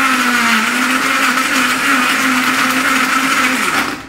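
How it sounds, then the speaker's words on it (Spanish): A struggling kitchen blender runs at full power on ice cubes, making a loud continuous whirring drone with a steady motor hum that holds for about four seconds and then cuts off. "creo que la licuadora va a explotar"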